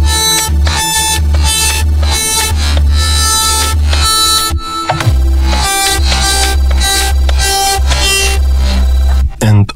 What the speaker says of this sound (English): I'm pushing down B button and values of resonator getting maximum values.